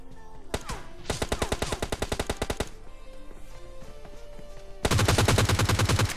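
Gunfire in a shooter video game: rapid automatic bursts crack out in long strings, a pause with quieter scattered shots, then a final dense, louder volley.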